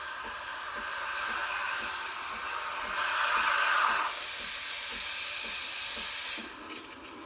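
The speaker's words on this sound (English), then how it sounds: "I'm going to create a vortex and keep the steam tip close to the surface and swirl it around." Steam wand on a Breville Barista Express BES870 hissing steadily and loud for several seconds, swelling in the middle, then easing near the end with no talking.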